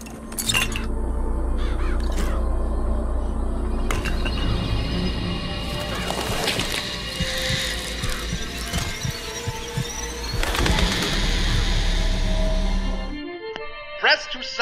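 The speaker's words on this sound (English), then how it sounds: "Press to summon murderous crows." Murderous crows summoned by a Vigor in the video game Bioshock Infinite caw and flap amid a dense, throbbing game soundscape with humming tones and squeals, loud and continuous before cutting off abruptly near the end.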